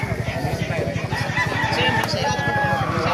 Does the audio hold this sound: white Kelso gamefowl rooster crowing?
yes